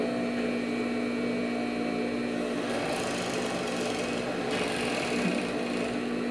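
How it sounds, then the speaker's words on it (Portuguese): A sewing machine stitching lace onto a bra cup runs in a steady, continuous mechanical hum and whir, close and loud throughout, without talk. "Vamos pregar aqui na máquina, ó."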